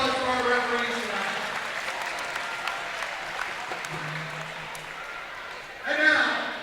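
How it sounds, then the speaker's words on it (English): Applause and crowd noise at a girls' high school basketball game in a gym, a moderate wash of clapping under voices, fading midway before a brief swell near the end. "Big round of applause for our referees tonight."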